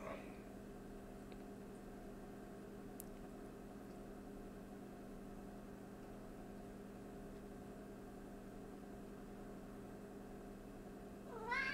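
A pet cat meows indoors, with a short cry at the start and another at the end, over a steady low electrical hum.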